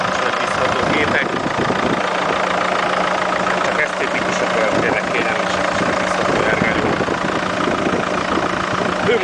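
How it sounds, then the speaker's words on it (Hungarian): A Peugeot 407 with a 2.0 HDI diesel engine idles in a steady, mid-pitched clatter throughout, while someone talks over it nearby. "Ez egy ilyen HDI Peugeot motorral szerelt autóról van szó"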